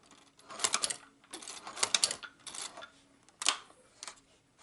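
A shoe patcher sewing machine stitching Vans sneakers, running in short close bursts of rapid mechanical clatter separated by brief pauses.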